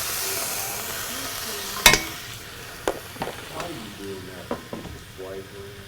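Beef sears in a hot pan with a constant hiss and several sharper bursts of spatter as the meat is turned, while a person talks in the background.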